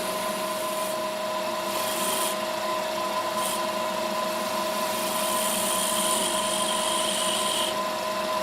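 Sandpaper of 120 grit rubs against wood spinning on a lathe, a steady close abrasive hiss over the machine's constant hum, with a few brighter surges of friction and no talking.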